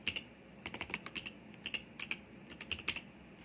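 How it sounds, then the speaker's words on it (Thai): Close computer keyboard typing, entering a template search in a cloud GPU web interface: quick irregular bursts of crisp key clicks with brief pauses between groups, no talking. "ให้เราพิมพ์ว่า stable diffusion ครับ"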